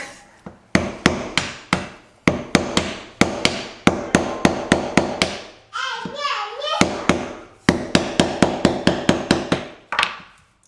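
A small hammer repeatedly strikes a screwdriver driven into a coconut: sharp, loud metallic taps in quick bursts of several blows, pausing briefly while a voice speaks, then resuming the steady knocking.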